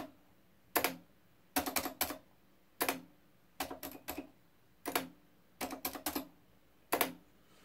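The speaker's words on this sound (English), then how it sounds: "You just type on the keyboard and you see it appears up there." Keys tapped on a Facit 1122 desktop calculator, producing quick clusters of sharp mechanical clacks in irregular bursts separated by short pauses, close and clear against a quiet background.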